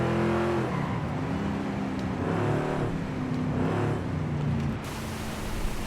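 A heavy American car's engine revs on a test track in the racing game Forza Horizon 5, a loud sustained droning tone that climbs and settles with little pause, then drops to a lower, softer note near the end.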